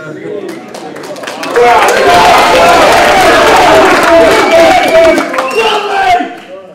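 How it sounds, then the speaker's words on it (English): Crowd cheering at a boxing press conference for Josh Warrington versus Lee Selby, a loud swelling roar of shouts and whoops from a packed room that builds, holds, then fades. "You're allowed to cheer for Josh Warrington."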